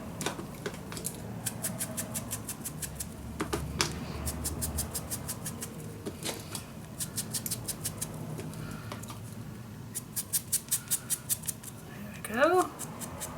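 Scissors snip through paper for a handmade mini album, several bursts of quick, crisp close cuts in rapid rhythm with short pauses between, plus light handling rustle.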